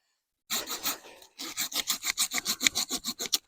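A budget folding saw cuts through wood in a short opening burst, a brief pause, then about a dozen quick, even rasping strokes, loud and close with no talk.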